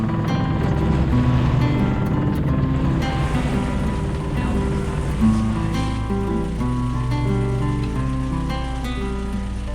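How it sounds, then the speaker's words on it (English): A sailboat motoring into a headwind, with a steady engine drone beneath continuous splashing and rushing water along the hull and occasional spray, loud and close; no voices. "so we've been motoring and beating into it all day"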